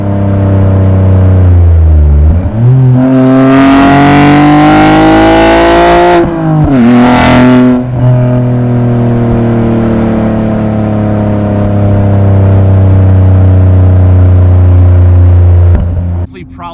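A BMW G80 M3 fitted with a Remus race exhaust accelerates in sport mode with the valves open, its loud engine note climbing in pitch through two hard pulls and gear changes, then settling into a steady cruising drone.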